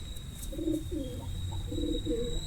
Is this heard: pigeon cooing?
yes